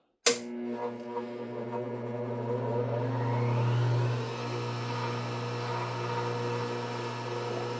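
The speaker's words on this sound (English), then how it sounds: "The sewing part of it really isn't all that loud, like the needle moving and all that isn't all that loud. It's the motor." A Singer 291u1 industrial sewing machine driven by a clutch motor starts with a sharp jolt, then settles into a steady, loud motor hum with a faint mechanical whir layered over it, running continuously with no talking.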